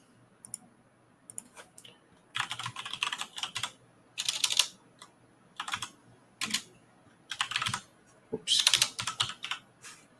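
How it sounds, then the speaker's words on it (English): Typing on a computer keyboard during online fragrance shopping, heard as bursts of quick clicking keystrokes separated by short pauses, close and fairly quiet with no talking. "Typing wrong left and right."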